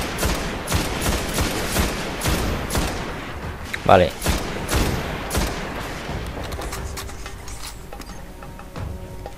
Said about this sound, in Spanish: Es como un fusil. No tiene disparo automático, por así decirlo.